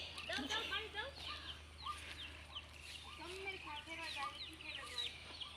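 Hens cluck in a jute field in a series of short, repeated calls, some close and some farther off, over a low steady hum with faint voices in the background.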